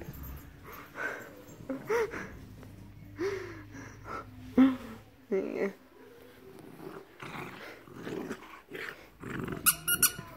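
Puppies play together with soft growls, squeaks and gasps coming in short bursts close by, while a person talks warmly over them.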